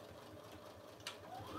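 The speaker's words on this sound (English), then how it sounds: "I'm just gonna do quickly a top stitch" A sewing machine runs a quick top stitch along the edge of a fabric messenger bag, a steady close whirring hum throughout with a brief louder burst near the end.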